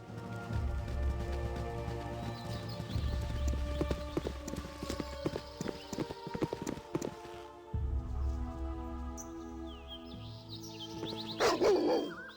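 A dog barks in the fantasy role-playing game Baldur's Gate, giving several sharp barks over clip-clopping hooves and steady game ambience.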